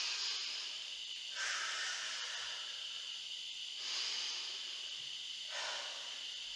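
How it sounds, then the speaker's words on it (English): Slow, deep yoga breaths during a standing twist, three long airy inhale-exhale swells spaced a couple of seconds apart, soft and close with no talking. "We're going to breathe up and twist open. Up and breathe out."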